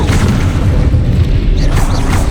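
Confringo blasting spell from Hogwarts Legacy: loud, close booming blasts with heavy low rumble, repeating over a couple of seconds in a steady barrage.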